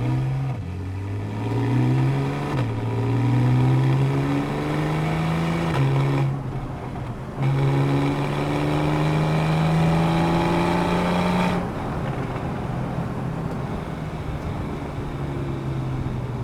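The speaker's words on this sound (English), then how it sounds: "The sound created by the sports exhaust combined with the 6-cylinder Boxer naturally aspirated engine is beautiful." A Porsche 911 Carrera S (991.1) with a naturally aspirated 3.8-litre flat-six and sports exhaust, driven in sport mode, revs hard through several rising pulls. Sharp gear shifts break them up before it settles to a steady drone, loud and close, with no talking.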